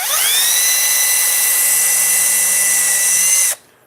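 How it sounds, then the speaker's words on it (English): A power drill runs steadily at high speed while pre-drilling and driving screws into a wooden cornhole board, a close, loud whine with strong harmonics that ends abruptly, with no talk. "So I'm going to pre-drill and countersink and attach screws."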